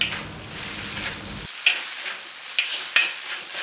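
Pad thai noodles with crushed peanuts, deep-fried tofu and Chinese chives sizzle steadily in a hot pan, with a few sharp clinks of a utensil stirring as the frying hiss continues.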